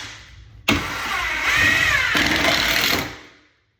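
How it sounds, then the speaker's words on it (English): A power drill driving a screw into a closet door, one loud close whirring run lasting about three seconds, motor pitch shifting as it bites, then spinning down, no voices. "Put a couple of screws in"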